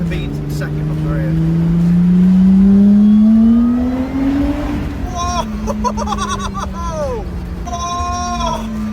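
Lotus Exige V6 fitted with a 2Bular exhaust, revving hard as it accelerates, a loud rising engine note that climbs then drops on a gear change, followed by sharp crackles and pops under excited talk.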